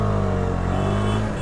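A motorcycle engine strains in fourth gear in traffic, a loud continuous close drone with steady harmonic hum and no talk.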